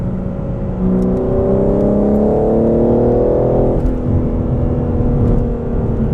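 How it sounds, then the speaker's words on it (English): A 2021 BMW G80 M3 Competition driven hard on a canyon road, its engine revving up loudly through a rising pitch, then dropping at a gear change and pulling again, heard close and steady without talk. "we've got a little canyon here, and we're gonna do some little bit more spirited driving."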